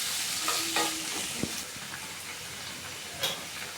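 Poppy seed paste goes into fried potatoes in a pan, giving a soft steady sizzle with a few stirring scrapes and clinks of a spoon, fairly quiet and close.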